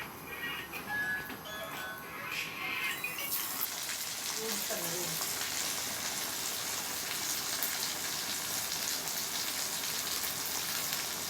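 Corn fritters (burelu) fry in hot oil with a continuous, close sizzle that grows louder and fuller after a few seconds and then holds steady.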